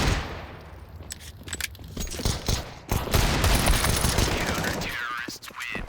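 Gunfire crackles in a shooter video game, with bursts of sharp shots and clattering rattles over a busy, loud game soundscape that builds toward the end.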